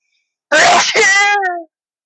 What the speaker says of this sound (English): Oh, let me sneeze.